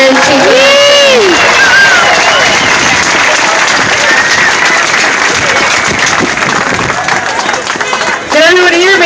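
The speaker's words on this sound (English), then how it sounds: "let's give her a giant round of applause for coming out to be here and speaking" Loud, dense applause and cheering from a large crowd at an outdoor rally against Monsanto, sustained throughout with scattered shouts and whoops rising above the clapping, easing slightly near the end.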